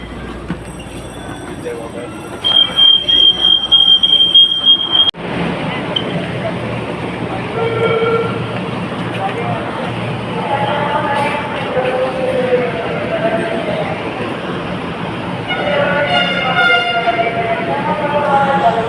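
An LRT train runs loudly along the tracks with a steady rumble and occasional high wheel squeal, people talking faintly amid the noise.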